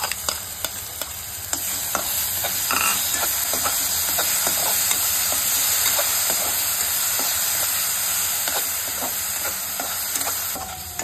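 Ground masala paste frying in oil for an elephant foot yam curry, with a loud, steady hissing sizzle and frequent spoon scrapes against the pan, close and continuous.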